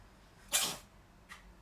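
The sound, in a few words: dog sneezing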